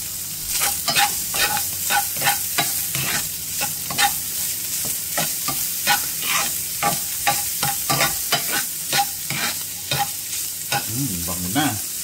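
Hotdog frying in a pan, a steady loud sizzle punctuated by regular scraping strokes of a utensil throughout.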